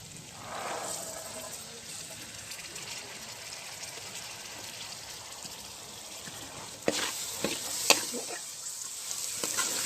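Peas hit a hot pan and fry in a steady, soft sizzle, with occasional scraping and clinks of stirring utensils toward the end, close and fairly quiet.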